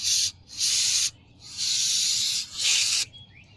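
Short bursts of cleaner from a spray can aimed at a Mercedes-Benz C-Class 230 cylinder head during repair, three close, loud hissing blasts with brief pauses between them.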